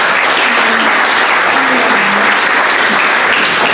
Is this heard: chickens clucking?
no